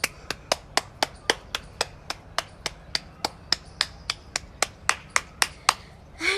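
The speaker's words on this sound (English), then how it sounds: "So let's clap all together." Children clapping hands in unison during a home exercise routine, about twenty sharp, evenly spaced claps in a steady brisk rhythm, close and clear with no talking.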